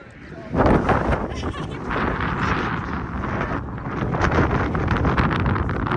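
Steady, loud wind buffeting the microphone at a panoramic viewpoint while hiking in Morocco, a broad rushing roar that swells and gusts throughout, with no clear speech.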